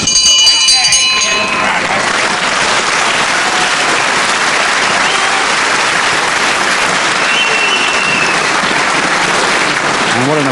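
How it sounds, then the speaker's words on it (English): A crowd applauds steadily at a 1977 British professional wrestling match at the Cliffs Pavilion, Westcliff-on-Sea, a dense, loud, sustained clapping that fills the hall while a commentator talks over it. "And what an appreciative crowd there is down here at the Cliffs Pavilion, Westcliff-on-Sea."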